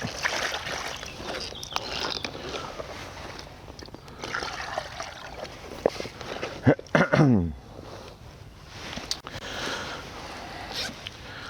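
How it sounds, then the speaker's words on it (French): Water is poured into a container of fishing bait beside the water, a soft trickling and splashing close by, with rustling and a brief zipper-like rasp partway through. "On vient verser de l'eau dans le récipient."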